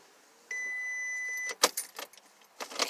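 The ignition key of a VW Passat 2.5 is turned off and back on. A steady high chime-like tone lasts about a second, then keys jangle and click sharply close by.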